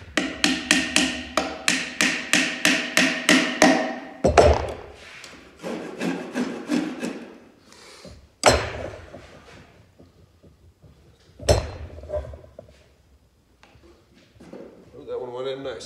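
A rubber drywall mallet pounds wooden dowels into the joints of a wooden beehive box, first in a quick, regular run of close, solid knocks, then in sparser heavier blows with pauses between them.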